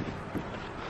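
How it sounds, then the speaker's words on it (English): Wind buffets a microphone outdoors in a short burst of low, rumbling, uneven noise, moderately loud and alone. "It's windy."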